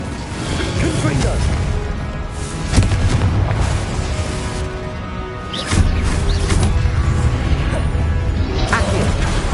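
Repeated Confringo explosion spells in Hogwarts Legacy, heavy booming blasts with crashing debris that swell over a dense, loud game soundscape, with a shouted voice calling spells throughout.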